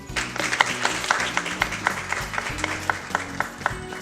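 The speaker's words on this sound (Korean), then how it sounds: "여러분의 큰 박수로 시작하도록 하겠습니다" Applause from a seated audience opens the 2020 Gyeongsangnam-do youth policy debate, many hands clapping in a steady, dense patter that fills the hall for several seconds.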